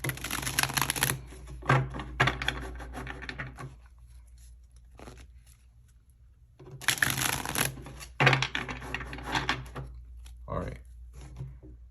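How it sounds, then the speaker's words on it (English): Tarot cards are shuffled by hand in bursts of rapid riffling and soft slapping, two main flurries separated by quieter handling taps, close and crisp over a low background hum. "we're going to get a few more shuffles here"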